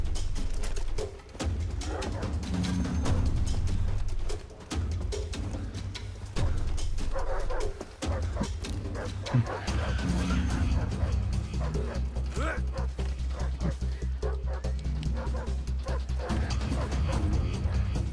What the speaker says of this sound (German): Blöder Hund.